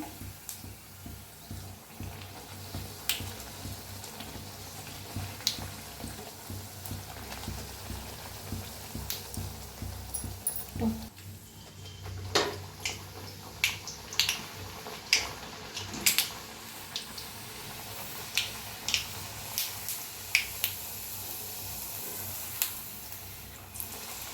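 Tomato puris deep-frying in hot oil, giving a steady bubbling sizzle with scattered crackles and pops throughout, fairly close and moderately loud.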